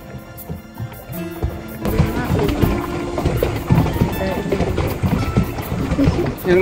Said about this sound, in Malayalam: അവിടെ ഒരു boat safari, pedal boat safari നടന്നുകൊണ്ടിരിക്കുന്നു.